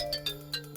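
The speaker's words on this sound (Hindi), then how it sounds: "सर, रानी सरदेसाई का फोन है।" Phone ringtone in an office chiming a quick repeating electronic melody, short tonal notes pulsing over a steady hum, heard briefly at moderate volume.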